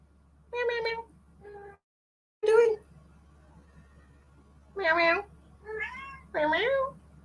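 A series of distinct meows, a few short and some drawn out, sound close by, separated by quiet pauses.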